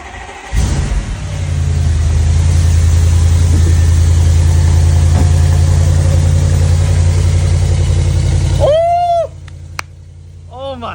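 A car engine revs and burbles through an ARM Motorsport downpipe. The exhaust drones loud and close for about eight seconds, then cuts off, and crackling pops and burbles follow in the quieter tail.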